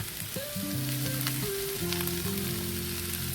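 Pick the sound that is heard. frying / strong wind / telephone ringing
frying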